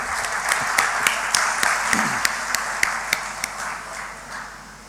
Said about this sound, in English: So if we can just give everyone a round of applause,